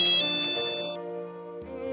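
A phone plays a short melodic ringtone for an incoming call, bright sustained electronic tones shifting pitch, close and alone.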